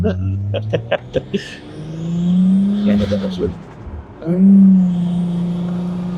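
A Nissan Stagea RS Four V estate wagon with an RB engine revs and accelerates loudly up close, its engine note rising in two pulls after a few short blips, with people talking inside the car.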